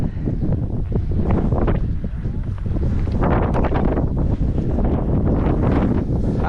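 Steady, roaring wind buffets the microphone on a windy day in an open Nebraska public-land field during a pheasant hunt, loud and continuous throughout with no clear talking.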